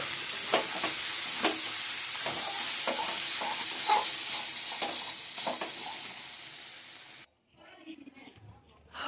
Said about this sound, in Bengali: এটা আরেকটু ভাজা ভাজা হোক।